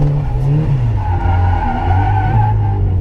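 Turbocharged Mazda Miata drifting in second gear at a drift event, engine droning steadily with a wavering pitch while tires skid and squeal continuously, loud and close throughout.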